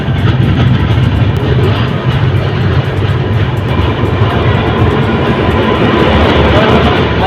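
A passenger train pulls into Sultanganj railway station in Bihar, heard as a loud, steady rumble of wheels and carriages rolling on the track, with faint crowd noise underneath.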